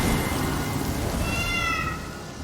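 A cat in the God of War Sons of Sparta video game gives one clear, rising-and-falling meow midway through, heard over a steady loud hiss like rain.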